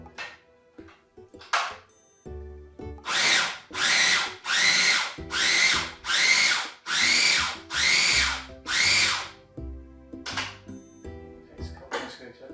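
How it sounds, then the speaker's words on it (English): A food processor purees chickpeas and garlic in about seven loud, sustained bursts of whirring motor noise, with quieter clatter and handling sounds between and around the pulses. "add your chickpeas and your garlic to the food processor, and you're going to puree that until smooth"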